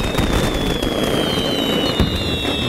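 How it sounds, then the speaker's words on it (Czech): Cartoon fireworks bursting in a dense, continuous barrage of crackles and booms, loud and close throughout with no pauses, under a steady whistling tone. "Ohňostroj už od rána."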